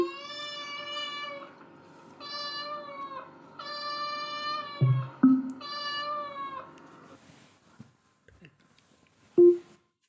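A smart speaker plays a recorded cat meowing several times in a row, clear drawn-out meows close by, followed by a few short thumps and quieter moments.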